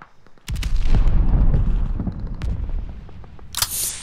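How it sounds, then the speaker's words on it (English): A flare gun fires in Call of Duty Vanguard amid a booming wartime bombardment, with a sharp burst at the start, a low rumbling boom running through, and a hissing crack near the end. "Get out and fire the flare!"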